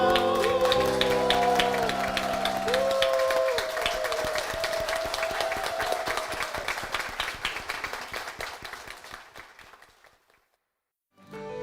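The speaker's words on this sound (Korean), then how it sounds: "주님께 영광의 박수를 드리겠습니다" A church congregation claps in praise, a steady patter under fading music that thins out and drops to near silence before a new sound begins at the very end.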